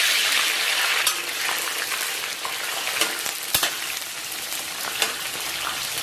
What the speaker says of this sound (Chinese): 咱们把切好的葱姜下到锅中